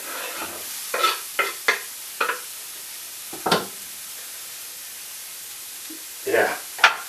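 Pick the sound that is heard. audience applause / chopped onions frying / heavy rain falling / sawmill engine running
chopped onions frying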